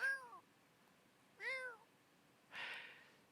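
An orange cat in The Sims video game meows twice with clear, rising-falling cries, followed by a breathier, noisier burst, each separated by short pauses with no talking.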